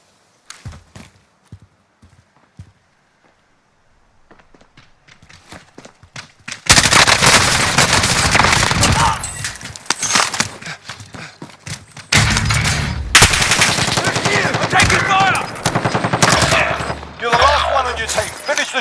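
Video game battle gunfire: sparse single shots in near silence, then dense bursts of automatic fire and impacts erupting loudly and continuing in waves, with a faint voice under the action.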